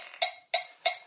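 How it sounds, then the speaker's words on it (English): A tablet metronome app ticks three sharp, even clicks at a slow, regular tempo of about 60 beats per minute, close and fairly quiet, with no voice. "a metronome is something that gives you a regular beat"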